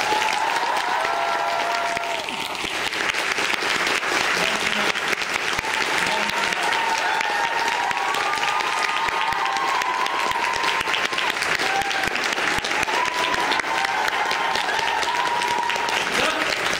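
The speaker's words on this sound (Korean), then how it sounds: "큰 박수 한번." Audience applause at a curtain call for a musical, sustained dense clapping from a large crowd throughout, with faint voices and cheering mixed in.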